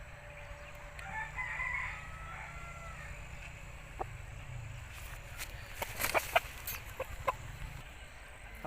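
A long-tailed Aseel rooster crowing at a distance among clucking fowl, the calls faint over a constant low hum, with a few sharper bursts later on.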